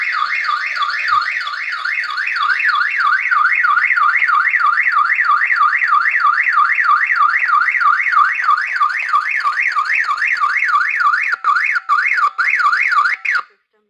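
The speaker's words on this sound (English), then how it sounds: "Alarm, basement, motion detector." A loud electronic home security alarm siren, set off by a basement motion detector, warbles rapidly up and down without pause, continuous and close, ending with a few abrupt cutoffs.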